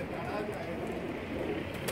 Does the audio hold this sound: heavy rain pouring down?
no